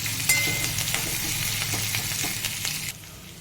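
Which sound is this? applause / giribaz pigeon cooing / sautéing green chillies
sautéing green chillies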